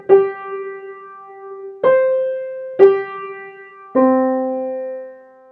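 Piano plays a theme's opening intervals, leaping by fifths and fourths: four sustained, clearly struck notes or chords ringing one after another, close and alone with no voices.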